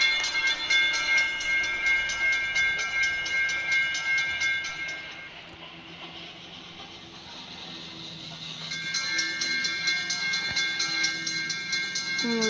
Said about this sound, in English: There's another train over there.